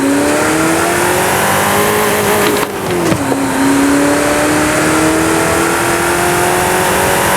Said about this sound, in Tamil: நம்ம ஃபோர்டோட ஆக்சிலேஷன் டாப் சீட் பார்த்துடலாமா